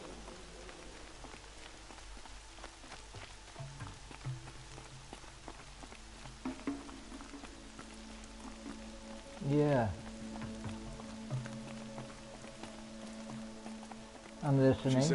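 Steady rain patters across surfaces in the video game Horizon Zero Dawn, a constant soft hiss with a few louder bursts, while a voice speaks briefly over it.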